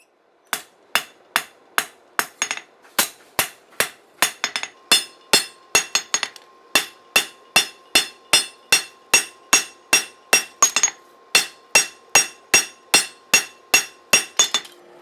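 A hammer forges a steel chef knife, drawing out and thinning the tang: a close, loud, evenly paced series of about thirty ringing metallic blows, heard alone.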